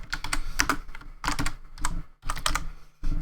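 Fingers typing on a computer keyboard in quick, uneven bursts of clattering keystrokes with short pauses between, close and fairly loud, no talking.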